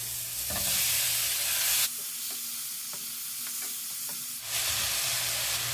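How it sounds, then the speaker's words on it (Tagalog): Garlic, tomato and pork sauté in a pan for pork menudo, giving a steady sizzle with scattered utensil scrapes and taps; a louder burst of frying opens and closes the stretch. "igisa na natin ang bawang at kamatis. Pagsabayin na natin. At ilagay na natin ang pork"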